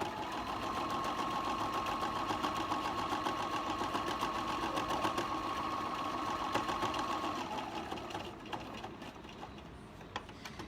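Sewing machine running steadily at close range while stitching the outer edges of fabric, a continuous mechanical whir that eases off near the end.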